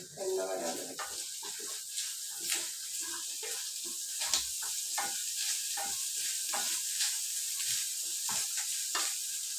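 Prawns frying crisp in a pan, a steady sizzle broken by repeated scraping and stirring clatters, with a short burst of voice at the start.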